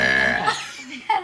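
A girl lets out a burp during a burp contest among friends, a single drawn-out guttural belch up close that fades, followed by a short louder sound at the end.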